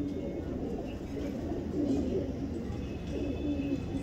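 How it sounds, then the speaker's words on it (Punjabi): A pigeon coos softly in a loft, low rolling coos repeating under a steady murmur of background noise. "ਇਹ ਕਬੂਤਰ ਇਨਸ਼ਾਅੱਲਾ ਮੈਨੂੰ ਬੜੀ ਹੱਦ ਤੱਕ ਯਕੀਨ ਹੈ ਕਿ ਰਿਜ਼ਲਟ ਦੇਵੇਗਾ"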